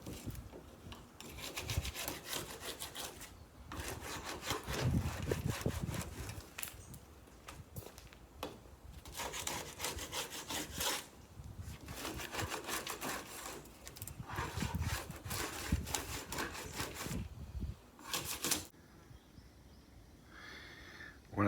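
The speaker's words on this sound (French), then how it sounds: "Les gratter d'abord avec une spatule, enfin un couteau américain, vous grattez tout ce qui ne tient pas" Putty knife scraping loose, damaged paint off exterior woodwork, close rasping strokes in repeated bursts with brief pauses, rough and steady, ending in a quieter stretch.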